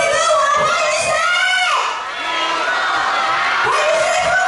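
Audience at an outdoor banquet music evening by the Yilan sports park gymnasium claps, whoops and yells in a loud, continuous burst that swells, dips briefly and rises again.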